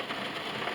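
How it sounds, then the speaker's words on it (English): Rain falling hard during a storm, a dense steady hiss of drops pattering on surfaces close around, with no other sounds standing out. "Don't ask me why I'm out in this rain like this."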